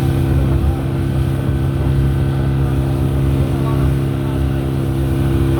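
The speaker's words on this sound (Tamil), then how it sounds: "இதில் பாருங்க ஒரு போட் ஒன்று வருது, இவ்வளோ ஃபாஸ்ட்டாக வருது." A fast boat passing on the water near a seaside island shrine, a loud continuous engine drone and rushing water that stays steady throughout.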